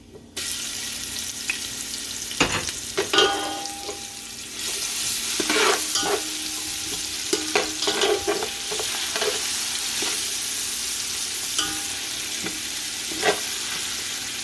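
Ginger-garlic paste sizzles and crackles steadily in a hot pan while being stirred, with scraping spoon strokes cutting through the frying hiss throughout, no voices present.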